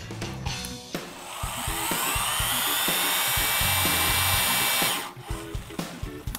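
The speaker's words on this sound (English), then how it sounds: "When the gun senses the 450 foot-pounds of torque, it'll shut off automatically." An impact wrench gun tightens an A325 bolt to 450 foot-pounds: a loud, sustained whirring rises for about three seconds and then cuts off abruptly, with clattering mechanical knocks before and after.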